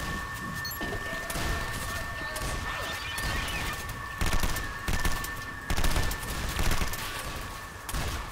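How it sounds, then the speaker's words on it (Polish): Rapid gunfire bursts in a video game, repeated volleys of shots rising and falling over a steady background of game ambience, with no talking. "Nie strzelaj, Patryk, do swoich"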